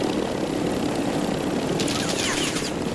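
A video game helicopter gives a steady, loud rotor roar that fills the scene, with a burst of rapid gunfire-like crackle near the end.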